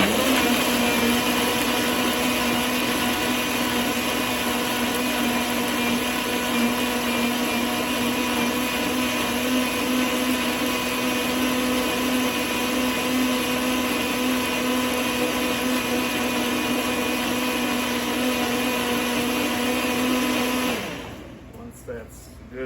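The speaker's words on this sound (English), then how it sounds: "Whenever I use a blender, I always keep my hand on top, make sure I have a lid on before I go ahead and turn this on." A blender on pulse purees hot birria sauce for quesabirria, a loud, steady motor whir running continuously for about twenty seconds before cutting off abruptly near the end.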